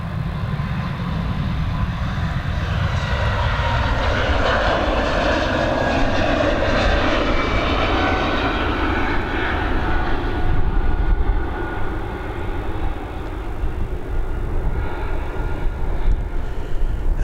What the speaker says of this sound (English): we've got this Swiss on departure.